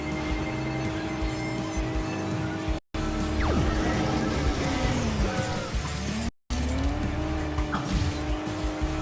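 Stock supercar racing in the mobile game Hill Climb Racing 3, with a steady engine drone, repeated tire squeals and skids rising and falling, and two brief cuts to silence.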